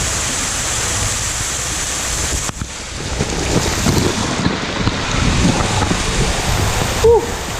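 Strong gusting wind buffets the microphone outdoors at Disney's Blizzard Beach water park, a loud continuous roar with rumbling low-end buffeting throughout and no clear speech.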